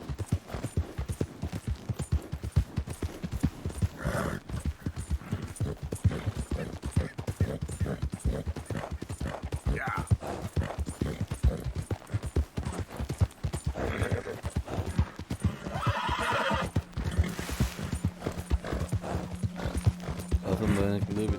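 Horse hooves clip-clop in a fast, steady galloping rhythm while riding in Red Dead Redemption 2, continuous over game music and effects, with a voice talking over much of it.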